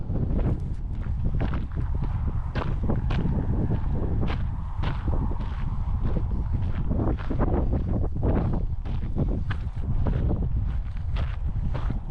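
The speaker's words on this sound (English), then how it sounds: "Wind's out of the north and it's getting kind of cold." Cold north wind blowing outdoors on open West Texas land near horses, a constant loud rumble of wind buffeting the microphone, with scattered thumps and clops of hooves or footsteps through it and no talking.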